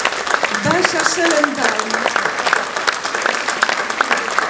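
Audience applause for children after a play, Droga Matki Jadwigi, steady clapping from a crowd heard under a voice reading names aloud over it.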